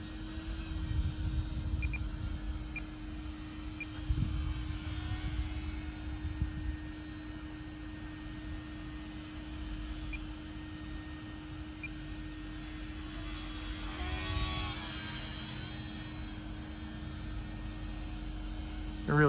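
A small radio-controlled Sport Cub S2 model plane buzzes continuously with a thin electric whine, steady throughout, over low rumbling wind gusts.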